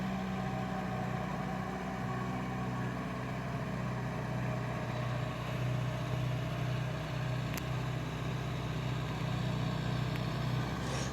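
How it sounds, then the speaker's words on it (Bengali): A Kubota MU 5502 4WD tractor engine runs steadily at about 2000 rpm, a continuous low, even drone heard from a short distance, with no talking. "তো বন্ধুরা, গাড়িটা 2000 রেটের আরপিএমে চালানো হচ্ছে"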